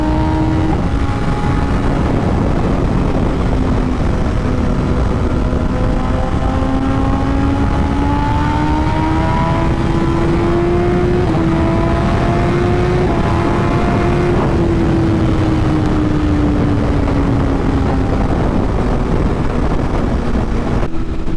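BMW S1000RR sport motorcycle accelerating, its engine note climbing steadily in pitch and easing off again under heavy continuous wind rush, heard from the rider's position without talk.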